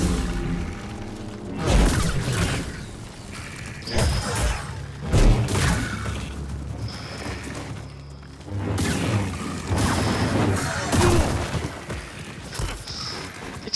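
Booming blasts and thuds from combat in Star Wars Jedi: Survivor, several heavy hits spread across the stretch with whooshes and crashes between them.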